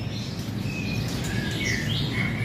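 Caged songbirds at a bird shop give several short whistles and chirps, some rising and some falling. The calls are moderately clear over a steady background hum, with no speech.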